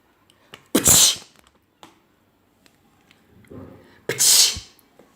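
A miniature pinscher dog sneezes twice, each a sharp, loud burst a few seconds apart, with small snuffles and quiet thumps between them.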